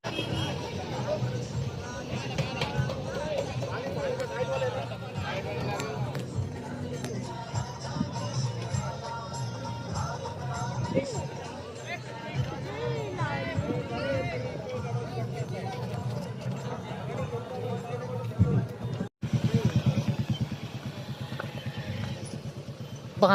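A packed crowd at a Shivrajyabhishek festival gathering, with two-wheeler traffic backed up nearby. A continuous babble of voices mixes with motorbike engine noise, and someone talks close by over it.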